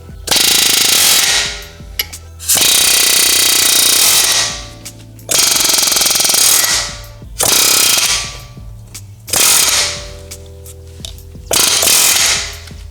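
Air hammer with a flat hammer bit pounding a wheel bearing on a W212 E63 AMG, in five or six long, loud, rapid rattling bursts separated by short pauses.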